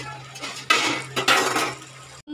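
A metal spoon scrapes and clatters against a pot while potatoes are stirred into a soybean curry, a few loud scraping strokes then a sudden stop.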